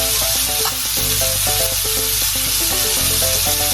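Chopped carrots, onion and shallot sautéing in a hot pan for a Cajun chicken pot pie, a loud steady sizzle with occasional stirring scrapes, close up and with no talk.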